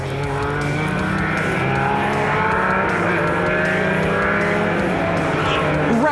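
Historic racing cars, a Tiga passing a Porsche 911 RSR on the final bend, roar loudly at high revs with shifting engine pitch, close and continuous, while a commentator talks over them.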